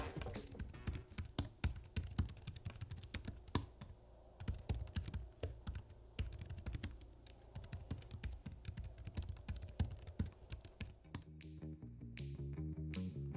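Rapid, steady key clicks from typing on a compact mobile keyboard for an iPad Pro, close and clear with no voices, ending in a few slower isolated taps.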